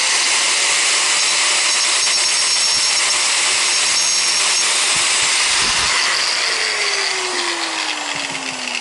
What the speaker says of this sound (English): I think I am going to take a little bit more at that bottom piece there with the angle grinder.